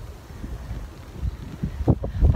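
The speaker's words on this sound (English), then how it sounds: "it's pouring with rain, it's really windy, it probably sounds terrible" Strong wind gusts outdoors in pouring rain beside a blossom tree, buffeting the microphone with uneven rumbling bursts that swell louder toward the end.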